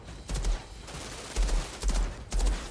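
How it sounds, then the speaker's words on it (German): Enemies in the video game Outriders firing from cover, several bursts of close, loud gunfire spaced across a few seconds with steady game ambience between them. "Ach, die können auch aus der Deckung schießen."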